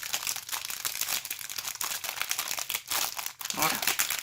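A packet of Pokémon energy cards from a Brilliant Stars (Légende Brillante) elite trainer box is torn open, giving continuous close crinkling and crumpling of foil wrapper with a few sharper rips.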